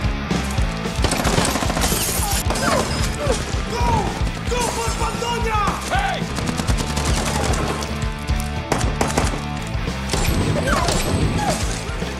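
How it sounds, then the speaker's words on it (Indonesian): Dense gunfire from a film shootout between soldiers and a colonel's troops, with rapid bursts, crashes and impacts layered over a loud, continuous score throughout. "muncullah si kolonel dan pasukan hingga terjadi baku tembak edan-edanan."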